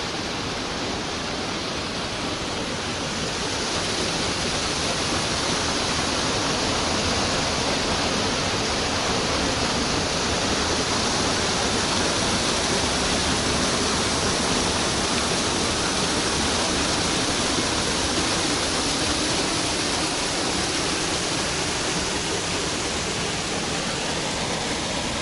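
Floodwater from a breached lake dam in Ukrainka, Crimea, pours steadily over the top after heavy rain, a loud, continuous broadband roar close by with no letup and no voices.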